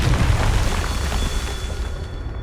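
A Confringo spell blast in Hogwarts Legacy, a loud, dense fiery explosion with a rumbling low end that roars throughout and slowly fades, with no voices over it.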